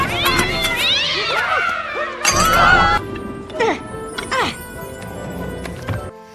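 An animated cat from the film Tinker Bell and the Great Fairy Rescue meows and yowls while chasing, mixed with scuffling and a sharp crash, busy sounds with music-like tones.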